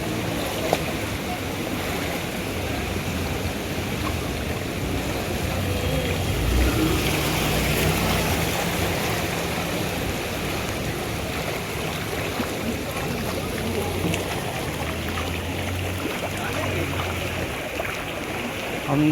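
Floodwater rushes steadily through a flooded street in Sangam Vihar, Delhi, after heavy rain, a broad continuous wash with faint background noise.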